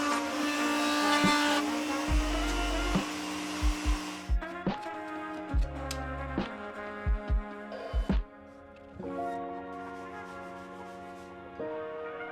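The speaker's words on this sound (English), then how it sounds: "I dug out the part where the LED and wire would fit with the router." A wood router cuts a groove for an LED strip and its wire while building a multi-level router bit storage unit, a loud steady motor whine for about four seconds before fading under tonal background music.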